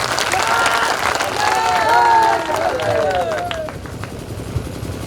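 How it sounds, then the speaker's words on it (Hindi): A crowd at a large outdoor political rally in Ramgarh, Bihar applauds and cheers loudly, sustained and then fading, with a voice and other voices over the noise. "परशुराम राजभर जी का एक बार जोरदार ताली बजा के स्वागत करिए।"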